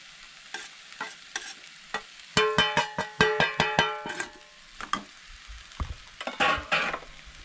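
Ginger garlic paste, turmeric, salt and garam masala being stirred into vegetables frying in a pan for crisp rice-flour veg cutlets, with sharp repeated scraping strokes over a steady sizzle and no talking.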